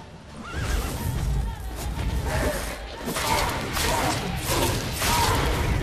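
Roach, a horse in The Witcher 3, whinnies loudly and close by. Hooves clop and game sounds shift underneath.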